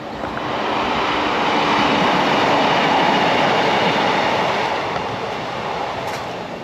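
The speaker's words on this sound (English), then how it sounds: "trains." A train rolls past on the railway beside woodland with birch trees, a broad roaring rumble that swells as it nears, holds loud, then eases slightly as it moves on, with no voices over it.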